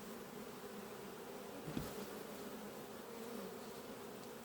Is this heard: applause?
no